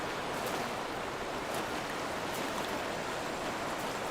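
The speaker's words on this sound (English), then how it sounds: "the water should be coming in from the waterfall" Steady rushing water pours from a waterfall in the game Myst, a dense, even wash of noise that holds throughout with no talk.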